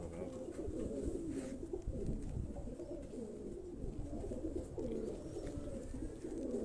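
Racing pigeons coo in soft, overlapping murmurs, a continuous low throaty burble from several birds at close range with faint background ambience.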